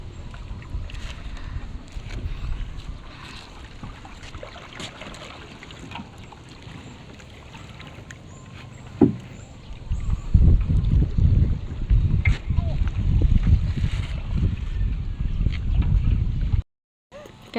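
A boat crosses a stretch of water in the Philippines, its low engine rumble and water noise steady, swelling louder in the second half with wind buffeting the microphone, then cutting out briefly near the end.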